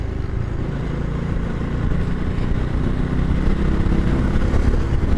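An older Yamaha R15 fitted with an Akrapovic exhaust rides through city traffic, its engine droning steadily close by with a gradual rise in intensity, no voices heard.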